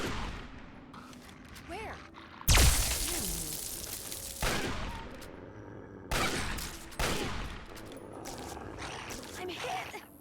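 Bursts of gunfire ring out in Fallout 3's Point Lookout, one sharp, loud blast followed by several more spaced volleys amid game clatter, with a voice speaking briefly between shots.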